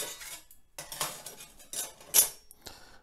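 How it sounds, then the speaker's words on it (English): Metal cutlery from a military mess tin, a knife, fork and spoon, clinks and scrapes in a string of irregular clattering handling sounds, fairly close and with no talk. "So we have a mess tin. This was issued to all the troops, and inside you will find knife, fork and spoon."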